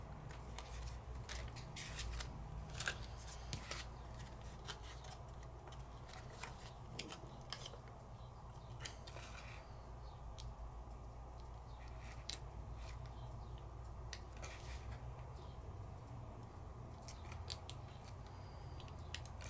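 Scissors snip and rustle through black peel-off sticker paper in a quiet craft session. The crisp cuts come in irregular bursts over a long stretch, close and soft against a faint hum.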